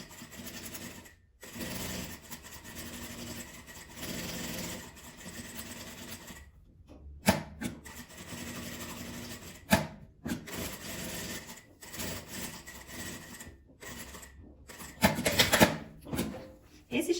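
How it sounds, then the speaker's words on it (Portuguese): A sewing machine stitches around a fabric scrap keychain in bursts of rapid mechanical whirring, close and moderately loud, stopping briefly between runs. "Eu vou costurar exatamente em cima do lugar onde eu risquei"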